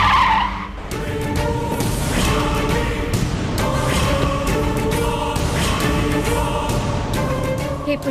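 A vehicle brakes hard to a sudden stop, a loud sustained tire skid that runs for several seconds at close range, with a busy road noise bed beneath it.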